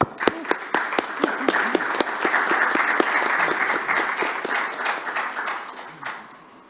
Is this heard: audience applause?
yes